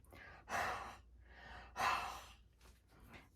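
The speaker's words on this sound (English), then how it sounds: "we're going to do that breathing on it just to make sure it's all moist" Two long, airy breaths exhaled onto an inked metal die during papercraft card-making, the second slightly stronger, followed by a softer third puff; close and quiet with no talking.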